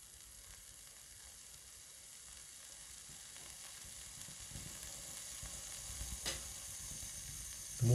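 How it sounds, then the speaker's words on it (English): Steady, soft sizzling and bubbling of water coming to a boil inside a Heron's aeolipile, a continuous hiss with small pops, close and fairly quiet, growing slightly louder toward the end. "You can hear it just boiling."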